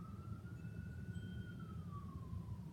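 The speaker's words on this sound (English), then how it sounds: "And a siren just started." An emergency vehicle siren wails steadily, its pitch holding then gliding downward, heard at a moderate distance over a low rumbling background with no talking.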